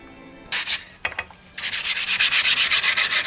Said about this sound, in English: I'm going to sand this down with some 600.